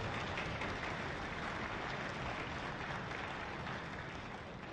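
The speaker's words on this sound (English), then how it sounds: "He gets his own applause." Applause at a university wind ensemble concert finale, a continuous, fairly quiet, even roar of many people clapping that holds steady without breaks and tapers only slightly at the end.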